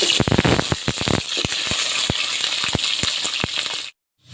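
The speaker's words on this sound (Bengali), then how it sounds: "এখন আমি আলু ভেজে নিচ্ছি তেলের ভিতরে।" Potatoes frying in oil in a home kitchen sizzle loudly with a rapid series of sharp crackles and pops, then the sound cuts off abruptly near the end.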